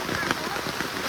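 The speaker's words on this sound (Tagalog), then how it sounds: "Guys, ayan, umuulan na." Rain falls steadily at a nighttime campsite during a storm, a soft continuous hiss with scattered patters of drops landing on nearby surfaces, faint and brief with no voices.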